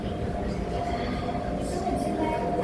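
Hong Kong train running near Causeway Bay, heard from inside the carriage as a steady rolling rumble with a faint high squeal from the wheels, and voices murmuring under it.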